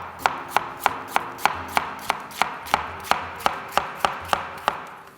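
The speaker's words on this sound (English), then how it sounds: "We're gonna take an onion, just dice it real fine." A knife dices an onion finely on a cutting board, giving about twenty crisp, evenly spaced chops close by, with no voices.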